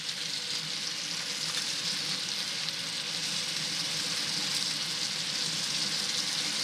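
Fried rice and bacon sizzle in a pan as a breakfast fried rice crisps up, a steady, loud hiss that stays even from start to finish, close by and alone with no voices.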